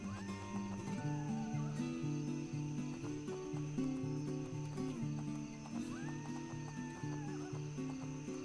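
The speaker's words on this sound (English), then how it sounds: "Sounds like a horse in distress somewhere in the background." A distressed horse in a video game neighs in drawn-out, wavering whinnies, two long calls separated by a pause, over a steady layered musical drone in the background.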